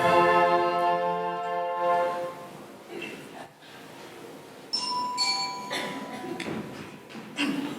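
A doorbell rings at a house door with a sustained chime tone at the start that fades away, followed by a second brighter ding and clinks, with people talking around it.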